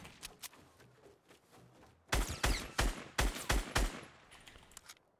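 A burst of gunfire in a Fortnite battle royale match: a few faint shots at first, then a loud rapid string of about eight close cracks, ending with a couple of softer distant reports.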